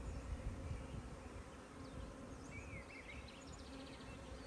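Honey bees drone steadily around a hive frame full of capped brood, a close, continuous buzzing hum with faint chirps of birdsong in the background.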